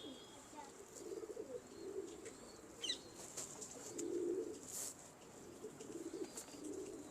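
Soft pigeons cooing in low repeated murmurs, a few calls in close succession, with occasional chirps and a brief wing flutter, faint and under quiet talk.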